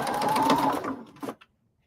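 A home sewing machine lock-stitches a denim corset, running steadily at close range for about a second, then stopping with a brief stutter of stitches before falling silent.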